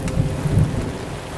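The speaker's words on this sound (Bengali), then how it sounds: "ভীষণ জোরে বৃষ্টি নামল।" Heavy rain pours with deep rolling thunder during a nor'wester storm, a loud, dense wash of rain under low rumbling through the whole short stretch, with no voices.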